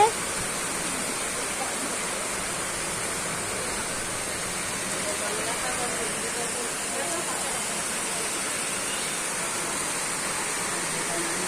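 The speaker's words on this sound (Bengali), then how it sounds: "অনেক জোরে বৃষ্টি হচ্ছে" Heavy rain pours down in a steady, dense hiss that never lets up, loud and close throughout.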